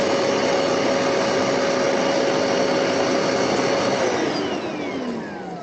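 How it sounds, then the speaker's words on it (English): A vacuum cleaner roars loudly and steadily with a high whine, then winds down near the end as its pitch falls and the motor spins to a stop. "you're going to see him with his vacuum here"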